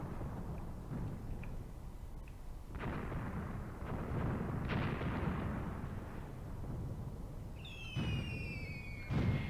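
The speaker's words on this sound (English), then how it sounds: "Oh, that's enemy artillery, I think, yeah." Enemy artillery fire in the video game Graviteam Tactics: repeated heavy booms and rumbling blasts roll through the whole stretch, loud and continuous, with a couple of sharper bursts near the end and high whistling shell tones just before.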